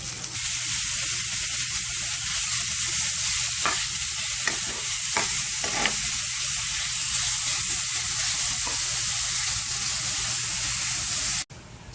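Ground pork, about a quarter kilo, frying in a pan, giving a steady close sizzle and hiss throughout, with a few light stirring scrapes and no talking until a sudden cutoff near the end.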